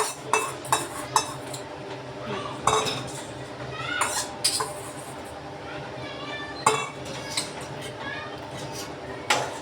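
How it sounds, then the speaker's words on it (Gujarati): Paneer tikka masala stirred in a metal pan, a spoon giving sharp, irregular clinks and scrapes against the pan over a soft sizzle, close and fairly loud, with some quiet background voices. "હલાવી લઈશું બરાબર."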